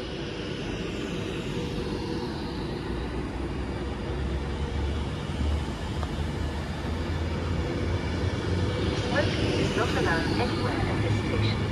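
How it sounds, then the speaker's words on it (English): Avanti West Coast Class 390 electric train 390008 runs through Milton Keynes Central station with a steady, loud rush and rumble that swells toward the end. "there goes 390008 on the 1655, slightly delayed Avanti West Coast service to London Euston from Manchester Piccadilly"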